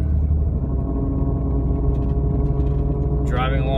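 A Jeep with an unexplained engine noise throttles up while driving, giving a steady, loud, low engine rumble throughout, with a brief higher whine near the end.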